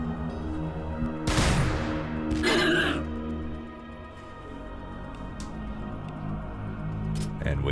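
Grenade blasts in the Warhammer 40,000 strategy game Battlesector, Blood Angels against Tyranids: two sharp, loud bursts about a second apart with crackling tails, then a low rumbling battle bed and a faint later hit.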